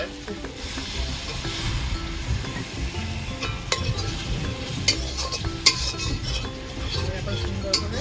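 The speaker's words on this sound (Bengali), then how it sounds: "মশলাটাকে আমি কষিয়ে নেব, তেল ছেড়ে দিলে তখন আমি মাংসটা দিয়ে দেবো।" Spices with Kashmiri chili powder and a splash of water stir-fried in a pan for a free-range chicken curry, with a steady sizzle, spoon scrapes and clinks against the pot throughout.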